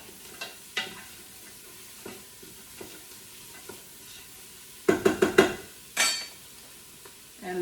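Shrimp in coconut sauce stirred in a pan: a low sizzle with scattered scrapes, then a burst of quick clattering spoon strikes against the pan and a louder scraping stir, close by.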